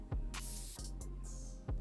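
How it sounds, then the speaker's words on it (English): A fragrance atomizer sprays behind the ear in a few short, soft hissing puffs over a low steady hum, fairly quiet and close. "This is how I spray. Go behind the ear."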